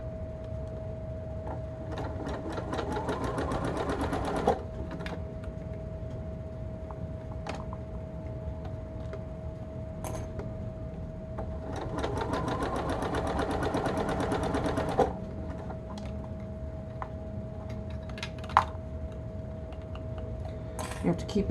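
A sewing machine stitches a sleeve into a blouse in two bursts of rapid, steady needle clatter separated by quieter pauses, with a constant electrical hum and light handling noises underneath.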